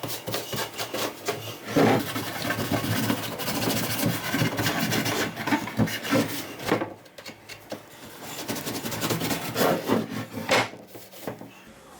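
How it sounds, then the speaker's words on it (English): Excess glue being scraped off wood on a rolling bench seat, a run of close, fairly loud rasping strokes in uneven bursts with a brief lull near the middle. "I'll take this and clean off all the excess glue"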